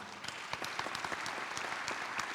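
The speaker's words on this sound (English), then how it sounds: "Please give a warm round of applause for Monika." A conference audience at a business congress panel on AI claps warmly after a speaker's introduction, a steady patter of many hands heard at a moderate distance.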